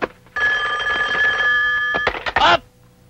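An old-style telephone bell rings once in a sustained metallic trill, followed by a clatter and a brief voice.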